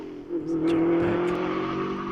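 A race car climbing at the British Hillclimb Championship at Wiscombe Park, its engine note rising into a steady drone at moderate distance, heard alone without voices.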